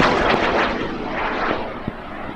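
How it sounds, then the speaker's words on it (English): A high power model rocket launches from a pad at an outdoor rocketry event, a loud roaring rush of motor thrust that starts close and slowly fades as the rocket climbs away. "And we are ready to launch Chuck's rocket off of pad 66. In 5, 4, 3, 2, 1, launch"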